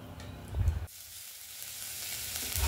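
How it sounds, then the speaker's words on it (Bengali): Dried red chillies and whole cumin seeds hitting hot oil for a Bengali moong dal tempering, a sharp burst of sizzle that settles into a steady close hiss after a brief clatter. "তেলের মতো দিয়ে দিল মা শুকনো লঙ্কা আর দিচ্ছে গোটা জিরে ফোড়নে"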